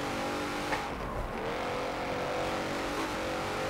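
An AMG Mercedes in Forza Motorsport 7 drives with a sustained engine drone that rises in pitch with gear changes and revving, heard fairly close and continuous throughout with no talking.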